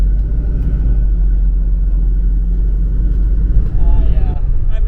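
A Super C motorhome pulls away and drives off, its steady low engine rumble and road noise filling the cabin from close by, with no one speaking over it.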